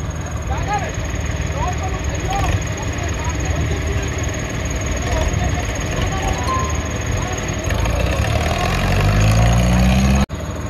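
A tractor engine runs steadily before a stunt, a continuous loud rumble that swells and rises in pitch near the end as if revving, with voices talking over it.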